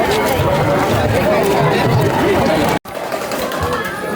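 Crowded public place full of overlapping chatter and murmuring voices, a steady loud hubbub that cuts out for an instant and then resumes slightly quieter.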